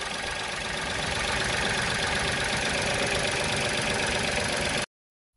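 A three-cylinder car engine idling, a steady, even mechanical drone with a low rumble that runs unbroken for about five seconds, then stops abruptly.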